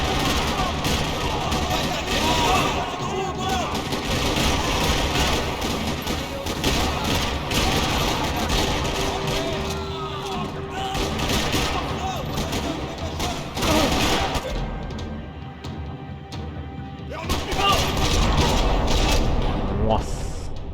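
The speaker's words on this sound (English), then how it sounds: "Another parking lot rattling with gunfire." Gunfire rattles through a parking lot in the video game Max Payne, with repeated shots, clanking mechanical sounds and a dense, loud mix of game effects. A voice talks over the noise at times.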